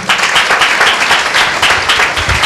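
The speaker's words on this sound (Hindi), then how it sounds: "मैं प्रभु यीशु का धन्यवाद करता हूं जोरदार ताली के साथ" Congregation applauding at a Sunday church meeting, loud close clapping from many people in a steady, slightly pulsing stream that carries on throughout.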